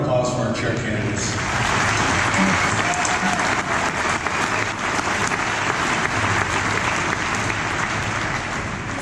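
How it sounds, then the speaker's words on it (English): A large crowd at a Utah Republican Party organizing convention claps for chair candidates, dense sustained applause that swells in after a moment and stays loud and even to the end. "Let's have one more round of applause for our chair candidates."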